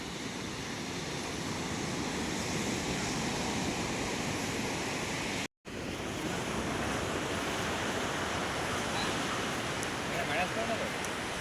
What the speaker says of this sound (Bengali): এখানে সমুদ্রের গর্জন আরও বেশি